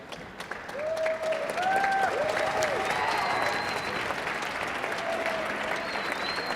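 A conference crowd at a national elevator pitch competition final round gives all the contestants a sustained, full round of applause, steady throughout, with faint whistles and voices rising above it.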